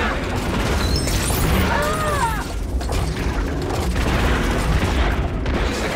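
Blaster fire in the Lego Star Wars: The Skywalker Saga video game, with booming, popping bursts and mechanical clatter that run almost unbroken through a loud, dense mix, while a voice comes in briefly partway through.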